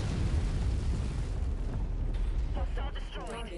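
Artillery shells burst in a mech combat video game, a sustained loud rumbling roar of explosions with heavy low-end booms, thinning near the end as a voice begins speaking over the din.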